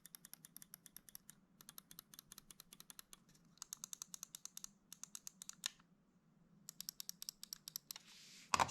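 Rapid, crisp computer mouse button clicks arrive in quick bursts with brief pauses between them, close and fairly quiet, over a low steady hum. A short rustle or handling noise closes the run.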